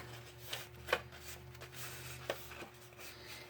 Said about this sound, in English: So then the 3/8, I'm going to fold it this way.